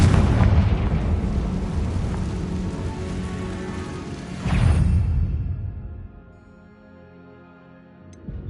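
A Confringo fire spell blasts in the Hogwarts Legacy game, a loud rumbling boom that swells again midway before dying into a quieter hum and a faint tail.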